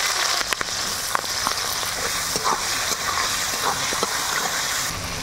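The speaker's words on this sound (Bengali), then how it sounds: "এবার বিনস গুলো দিয়ে ভেজে নেব।" Green beans fry in a pan with steady, close-up crackling sizzle and a few scattered pops and stirring taps, with no voices over it.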